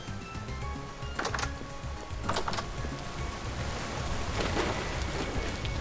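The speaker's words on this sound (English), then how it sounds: "No matter what, it's always raining." Steady rain hiss in Vintage Story fills the scene, soft and constant, with a few brief scraping or clattering bursts from in-game actions on top and no speech.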